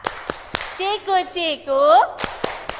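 Children in a classroom clap along to a clapping song, sharp, crisp single hand claps in a quick rhythmic pattern that alternate with bursts of sung chanting from the group.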